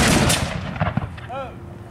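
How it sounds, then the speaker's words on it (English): A platoon of reenactors at a military history event in Gordonsville, Virginia fires a volley of muskets: a loud, ragged burst of overlapping shots up front, then thinner reports and a fading echo, with a brief voice near the end. "Company, fire by platoon."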